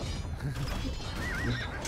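Horse neighing in an Age of Empires-style strategy video game, a short whinny rising over busy game ambience, with faint clip-clop and battle noise.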